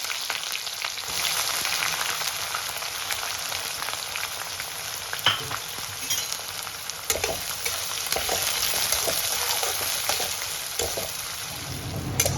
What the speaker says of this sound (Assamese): তাৰপিছত মই কুটি থোৱা পিঁয়াজখিনি দি দিছোঁ।